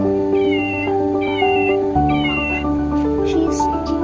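A toy cat unboxed as a gift gives a run of electronic meows, several short repeated calls over steady tonal sounds, close and clear, with no talking over them.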